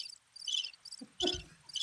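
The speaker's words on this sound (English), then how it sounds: "Crickets. That just hits" A cricket chirping sound effect plays as repeated high, bright trills in short bursts, loud and close, with a brief low thump midway and no talk.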